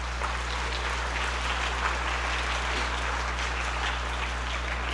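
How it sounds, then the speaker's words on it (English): At a school band spring concert, an audience applauds in a steady, even wash of clapping that sounds like rain and holds over a constant low electrical hum. "Give them a round of applause as well."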